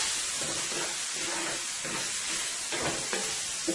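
A creamy Alfredo sauce with seasoning cooks in a pan, giving a steady soft sizzle and hiss with faint stirring scrapes scattered through, close and continuous with no talk.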